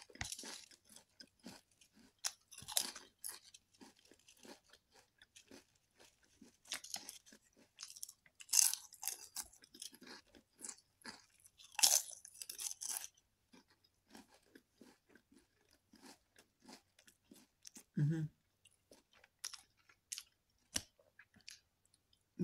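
Sour cream and onion potato chips crunched and chewed close up, bursts of crisp cracking repeating irregularly across the stretch with quiet pauses between bites and no talking.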